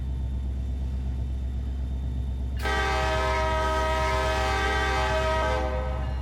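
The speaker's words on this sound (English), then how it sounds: "Pretty decent horn, we'll go with that." A Union Pacific locomotive horn sounds in the Run 8 Train Sim game, a single loud sustained chord blaring for about three seconds over a steady low engine rumble.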